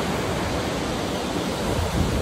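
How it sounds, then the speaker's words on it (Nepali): Steady wind rushes past at Sabha Khola in the hills, a broad continuous roar with slight gusts, outdoors and fairly loud throughout. "कस्तो राम्रो हावा चलिरहेको छ।"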